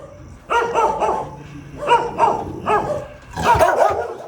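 Several dogs bark in short bursts at an animal shelter, a few loud yaps close by with brief gaps between them, no talking.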